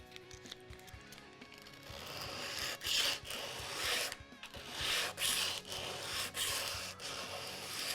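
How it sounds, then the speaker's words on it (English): A concave sanding rubber worked by hand over a Stratocaster guitar body being prepped for faux binding, giving steady rasping strokes that swell and fade in repeated passes. "just a little concave sanding rubber"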